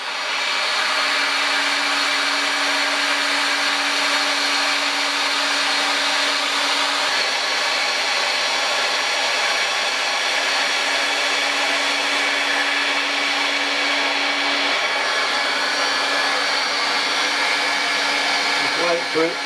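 A hot air plastic welding gun blows a loud, steady hiss of air close by while a plastic part is tacked in place, holding constant for the whole stretch with only a slight shift near the end.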